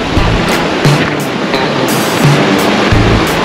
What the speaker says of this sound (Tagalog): Ito yung Tumis Falls dito sa Alabat pa rin.